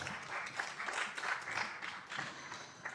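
An audience at a charity festival's poetry stage on its third day applauds. The clapping is a continuous, moderately faint patter that holds evenly throughout, with no voices over it.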